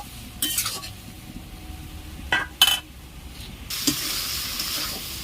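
Young jackfruit and shrimp stir-fry in a pot, with soft sizzling, a few sharp utensil scrapes and clinks, then a steadier hiss after water is splashed in; no voices.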